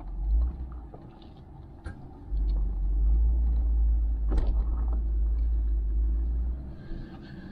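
An off-road vehicle crawls over big rocks on Tincup Pass, its engine rumbling low and steady close by with a couple of surges, plus faint knocks and scrapes.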